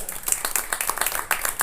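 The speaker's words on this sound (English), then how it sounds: "round of applause for the 4 that showed up tonight" Round of applause at a school committee meeting: a dense patter of many hands clapping, steady and moderately loud throughout, with no voices standing out.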